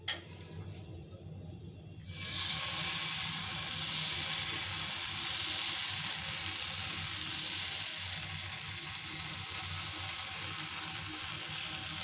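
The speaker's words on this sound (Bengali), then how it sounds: "তো আমি আরেকটা ভেজে নিচ্ছি।" Jhikimiki pitha made from flour frying in hot oil, a steady, dense sizzle and hiss that swells loud after a quieter opening and holds close and continuous with no voices.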